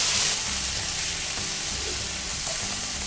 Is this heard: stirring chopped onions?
yes